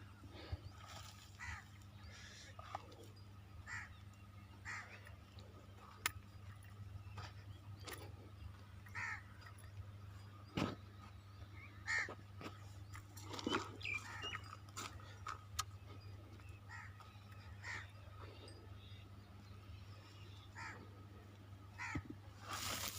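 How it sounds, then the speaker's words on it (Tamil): Crows caw repeatedly outdoors, a scattered series of short, harsh calls at irregular intervals, fairly faint and distant over a steady low background hum. "பார் காக்கா சாவுது பார்"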